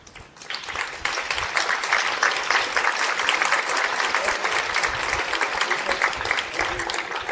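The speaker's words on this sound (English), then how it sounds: "then we can all applaud them" An awards-ceremony audience applauds scholars rising from their seats, a loud, sustained burst of many hands clapping that swells within the first second and holds steady throughout.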